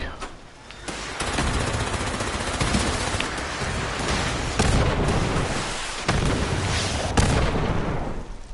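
Dense, continuous video-game gunfire in Fallout, rapid automatic bursts and booming shots layered into a loud, sustained barrage with brief dips and surges throughout.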